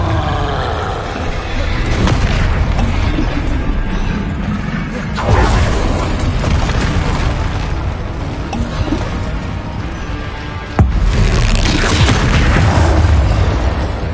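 Spell blasts in Hogwarts Legacy combat, heavy booming explosions and whooshing bursts that roll on almost continuously with sharp impacts marking new casts, loud and dense throughout.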